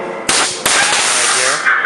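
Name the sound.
haunted house air cannon blast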